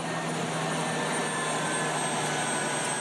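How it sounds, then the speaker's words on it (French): An aircraft engine drones in a steady, loud whine with a constant hiss, unchanging throughout and with no voices. "ordonne aux pilotes de couper le moteur de l'avion"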